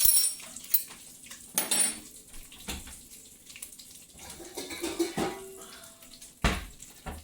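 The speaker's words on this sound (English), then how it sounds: "I've got a little pot over here in my sink." A small metal pot is handled in a kitchen sink with water running, giving scattered clanks and knocks of metal against the basin over a steady splashing trickle, with no talking.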